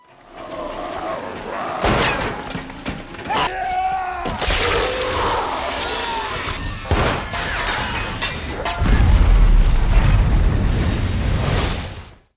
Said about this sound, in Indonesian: Ledakan yang terjadi membuat ruangan itu menjadi runtuh